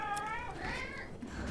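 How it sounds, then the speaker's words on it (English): A cat lets out a short, faint meow against quiet game sounds, with a voice talking underneath. "My cat is meowing at me."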